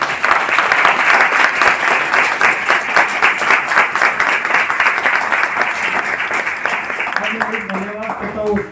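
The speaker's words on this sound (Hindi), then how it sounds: "उनके लिए पहले एक बार जोरदार ताली" Loud, sustained audience applause from a large crowd at a group gathering, dense clapping filling the whole stretch and easing slightly near the end as a voice begins to speak.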